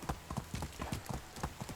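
A horse's hooves clip-clop at a slow, uneven walking pace in the medieval village game Medieval Dynasty, quiet and close with no voices over them.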